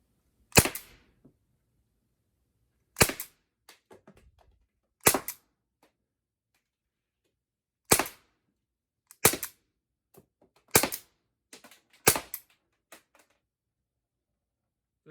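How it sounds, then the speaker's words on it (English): An Umarex T4E Glock 17 Gen 5 fires aluminum balls in sharp, separate cracking shots, about eight of them spaced a second or two apart, each loud and close with a short tail. "I'm going to just fire a few into here so you can see as they fire."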